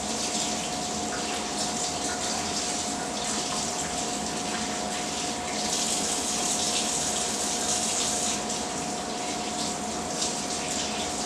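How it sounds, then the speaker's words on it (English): Tap water runs steadily into a kitchen sink while hands are washed under it, giving a continuous close hiss and splash with a faint steady tone underneath and no speech. "Go and wash my hands."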